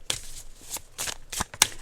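A deck of cards is shuffled for a tarot reading, giving about five quick riffling bursts spaced unevenly, crisp and close, with no talking.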